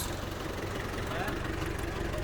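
A vehicle engine idling on a road at Galle Face in Colombo, a steady low rumble close by with traffic hum around it.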